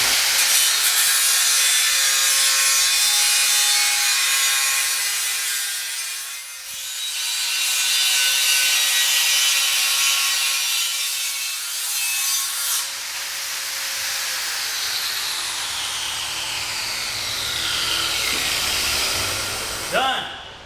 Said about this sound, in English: cut it with this grinder here. Got a cut-off wheel in there.